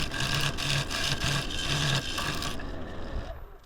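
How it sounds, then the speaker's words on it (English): A square end scraper cuts into a spinning wood bowl on a lathe, giving a harsh, pulsing rasp in quick bursts that cuts off abruptly and leaves a fading hum. "I've used a square end scraper there"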